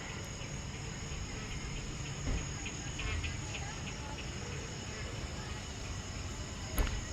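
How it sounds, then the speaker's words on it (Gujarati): Small frogs calling at night under cloudy pre-rain skies, a dense, steady high-pitched chirring chorus in the background with a couple of soft knocks nearby. "મસ્ત મજાનો નાના નાના દેડકાઓનો અવાજ આવી રહ્યો છે."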